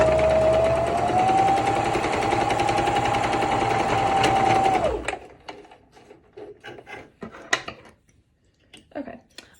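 Sewing machine stitching a cloth face mask runs in a steady loud mechanical whir for about five seconds, then stops, followed by quieter clicks and handling sounds.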